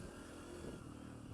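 A Honda CRF150F dirt bike engine hums steadily during a trail test ride, a faint, even low drone with no clear revving and no talking.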